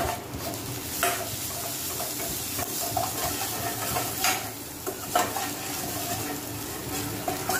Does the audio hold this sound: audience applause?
no